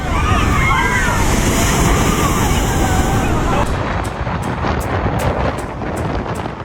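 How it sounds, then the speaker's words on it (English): A powerful tidal bore surges along the Qiantang River, with rushing, churning water and wind buffeting the microphone, loud and continuous, while voices are heard over the roar. "Is the Cheontang River tidal bore really that powerful?"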